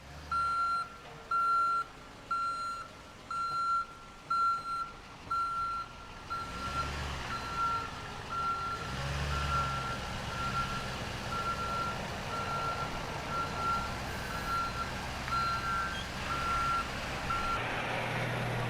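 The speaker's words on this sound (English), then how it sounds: "Here is a demonstration of driving the serpentine course in reverse gear." A fire engine pumping apparatus reversing through a serpentine course: evenly spaced loud reversing beeps over a low diesel engine rumble that grows louder and fuller midway as the truck moves.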